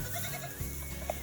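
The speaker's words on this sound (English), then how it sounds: "a small group of goats that are specifically mine." Goats bleat on a small farm, a short call standing out near the end over a steady low background hum, with no talk.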